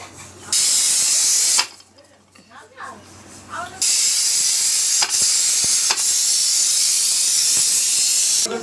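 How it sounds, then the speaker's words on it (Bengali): A kitchen pressure cooker vents in loud, sharp bursts of hissing steam, a long whistle breaking off into a quieter gap before the steady release resumes, punctuated by a few clicks. "এই যে কমপ্লিট হয়ে গেছে সাতটা সিটি আটটা সিটি টোটাল"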